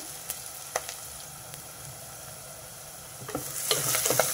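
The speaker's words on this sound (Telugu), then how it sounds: "కొంచెం కరివేపాకు వేసేస్తున్నా. మెంతికూర ఇంకొంచెం వేగాలి." Fenugreek leaves and onions frying with curry leaves in a pan, a soft continuous sizzle with scattered stirring clicks that swells louder toward the end.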